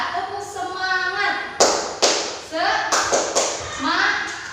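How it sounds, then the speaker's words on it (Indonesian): A classroom tepuk semangat clapping routine, with a teacher and children chanting while sharp hand claps land in an irregular rhythm, several distinct claps standing out between the voices. "kita tepuk semangat terlebih dahulu"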